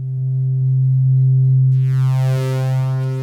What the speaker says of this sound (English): I have the STO going through the mimeophone.